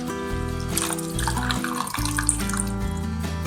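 Washed drumstick leaves being lifted out of a bowl of rinsing water in a home kitchen, a steady close splashing and dripping of water throughout.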